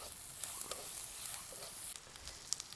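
Sesame seeds frying in hot oil give a faint, steady sizzle with soft crackles and light stirring scrapes, close by and without talk.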